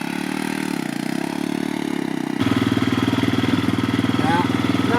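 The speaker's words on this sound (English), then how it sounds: "I find it incredible that we can't find a decent hill in the Himalayas to actually get this bike running." Motorcycle engine in the Himalayas catching after a hill start, a steady low rumble that firms into a louder, rhythmic idle partway through, close and continuous.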